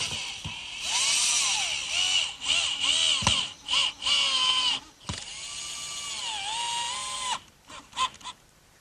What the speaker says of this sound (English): on this oak, it's critical to cut pilot holes